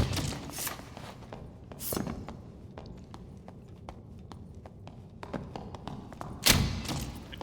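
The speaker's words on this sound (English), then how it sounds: "Who's mining ore?" Ore being mined with a pickaxe in the dungeon game Dark and Darker, a series of hollow, evenly spaced thuds and clinks at moderate distance, with a few louder strikes standing out.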